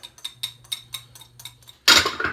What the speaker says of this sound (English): whisk it till it's blended together and smooth